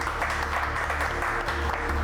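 Applause from an audience at a chili cook-off contest, a steady wash of clapping throughout, fairly loud and close.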